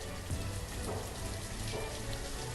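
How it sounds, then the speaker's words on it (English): Steady rain from the Banished city-building game, a dense, even hiss of drops falling on surfaces, continuous and fairly soft throughout with no voices. "Rain, rain, rain."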